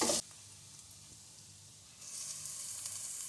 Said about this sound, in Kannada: ಮೆಂತ್ಯ ಫ್ರೈ ಆಯ್ತು